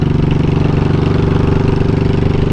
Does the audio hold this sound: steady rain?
no